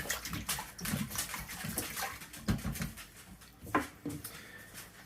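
Water poured into an Instant Pot over scraped-up browned chicken bits for ginger congee, a splashing, bubbling pour with several uneven surges and small clinks, fairly close and steady for about five seconds with no talk.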